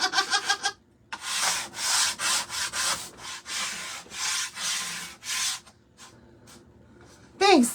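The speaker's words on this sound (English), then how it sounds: "grab a sander block." Hand sanding a pumpkin with a sanding block: a run of rhythmic, close, abrasive rubbing strokes in short bursts, with a brief pause near the start and faint sounds between strokes.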